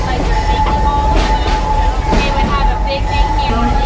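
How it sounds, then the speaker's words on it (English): Serengeti train ride at a theme park rolling steadily along, a continuous low rumble with a faint high tone and light clatter, with people talking over it. "So we're now on the Serengeti train"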